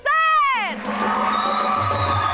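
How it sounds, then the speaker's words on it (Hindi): A studio audience on a Hindi talk show cheers loudly to welcome a guest. A high, rising and falling whoop opens the sound, then a dense wash of crowd cheering and clapping holds steady to the end. "आपकी बहुत सारी तालियों बुला रही हूँ अदील"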